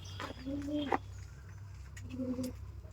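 Two soft, low pigeon coos sound close by, a second apart, over a steady faint hum.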